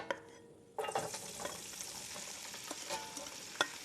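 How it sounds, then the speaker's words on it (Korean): Seasoned lotus root drops into a hot frying pan with cooking oil and erupts into a steady, close sizzle of frying, with faint scrapes of stirring through it. "요렇게 연근을 기름에다가 많이 볶아줘야 연근이 굉장히 윤기가 나면서"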